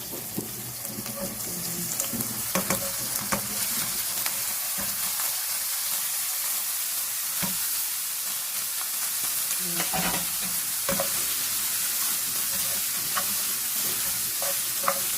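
Minced beef, cooked with carrots and potato, fries in a pan with a constant, close sizzle as it is stirred, with scattered clinks and scrapes of the utensil against the pan throughout.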